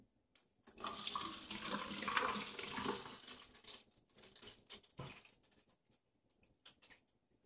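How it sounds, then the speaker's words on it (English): Loose Iaso tea is poured into a liquid measuring cup, a soft rattling, pattering trickle for a few seconds, then scattered light ticks and taps as it settles, fairly quiet and close. "I'm going to pour it in my liquid measuring cup."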